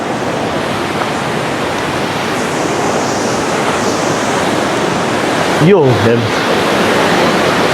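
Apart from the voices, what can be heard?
Mirik river water flowing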